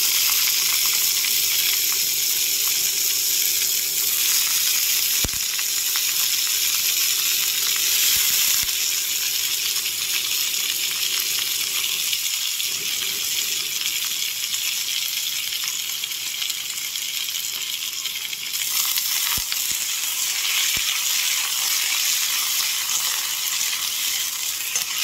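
Sliced onion and cut potatoes fry in hot oil in a pan, giving a loud, continuous close-up sizzle and hiss with occasional small pops and scrapes throughout, no voices.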